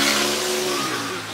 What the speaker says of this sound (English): Somebody needs a new exhaust on their Saturn.